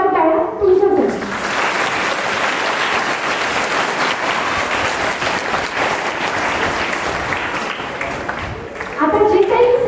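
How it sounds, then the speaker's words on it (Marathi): Schoolchildren at a Marathi Language Day event burst into loud, sustained applause lasting several seconds, with a voice speaking just before and as it fades. "एकदा जोरदार टाळ्या तुमच्यासाठी."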